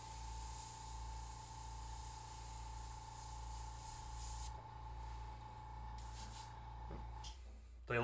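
An airbrush compressor hums steadily under a broad, continuous spray hiss that cuts off about halfway through, while the motor drone keeps running low and close.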